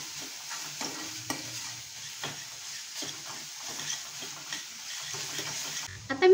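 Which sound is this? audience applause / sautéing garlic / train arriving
sautéing garlic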